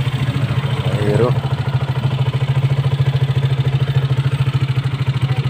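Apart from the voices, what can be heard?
motorcycle engine idling with a broken exhaust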